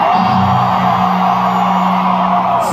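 A concert crowd screams and cheers before a rock song, a loud sustained roar of many voices with a steady tone running underneath.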